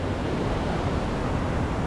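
A deep, fast river rushes along a hiking trail, a loud, steady broadband roar close by that fills the short moment with no voices.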